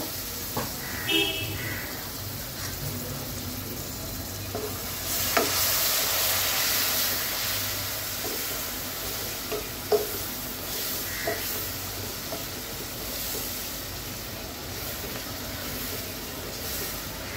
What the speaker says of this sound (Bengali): এখন জাস্ট এখানে আমি একটু পানি দেব, পানি দিয়ে একটু কষিয়ে নেব।